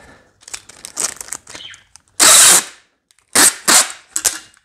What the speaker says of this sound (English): You're probably gonna freak out when I start pulling tape.